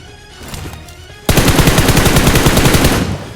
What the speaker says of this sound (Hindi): मैं इस बंदे पे शॉट्स भी लेता हूँ